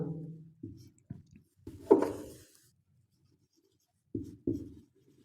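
Marker or chalk writing on a classroom board, a few short scratchy strokes in irregular bursts separated by quiet pauses, close and isolated.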